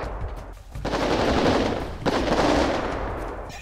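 Gunfire in the video game GTA 5 roars in two long, dense bursts of rapid automatic shots, loud and close, with a short gap between them.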